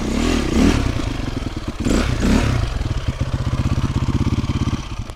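A motorcycle engine revs up twice in loud bursts, then settles into a rapid, throbbing idle close by.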